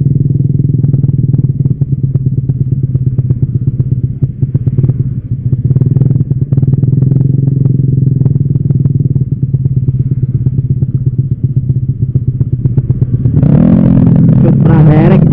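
Several motorcycles, including a Honda Supra and a Yamaha Mio, idle and rumble steadily at a city park gathering on a Sunday morning ride, with occasional clatter and a brief sharper rev near the end; loud and close throughout.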